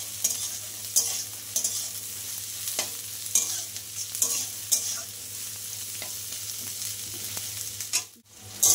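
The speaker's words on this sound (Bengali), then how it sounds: "নিয়ে এবার আমি যে সবজিগুলো কেটে রেখেছি সবজিগুলো দিয়ে দিচ্ছি। এই সবগুলো একসাথে করে ভেজে নেব।" Chopped vegetables with elephant foot yam stalks frying together in a pan, a low steady sizzle broken by repeated scrapes and clacks of a spatula stirring, close and without speech, ending in a brief dropout.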